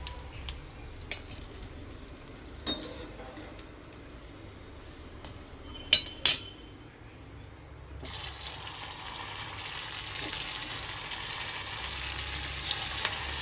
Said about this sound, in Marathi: मी आता हे सगळे छान तळून घेणार आहे